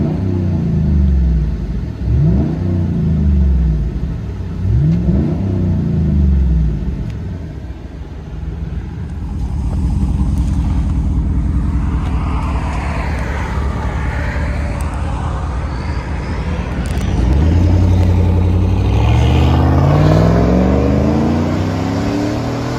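2009 Yukon Denali XL with a 6.2L V8 revving through its aftermarket exhaust: a few short throttle blips, a lull, then longer deep rising revs, heard loud and close from inside the cabin.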